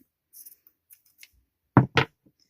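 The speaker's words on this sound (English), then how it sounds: "So I am just going to like trim it." Scissors trimming material for handmade Bratz doll shoes: two crisp, close snips in quick succession near the end, after a few faint rustles in otherwise quiet surroundings.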